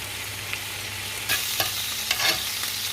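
Garlic and butter sizzle steadily in a pan, a close continuous fry with a few soft bumps and rattles as the pan is shaken gently.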